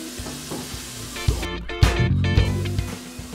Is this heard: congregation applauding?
no